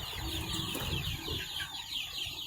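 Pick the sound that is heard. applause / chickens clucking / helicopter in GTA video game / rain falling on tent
chickens clucking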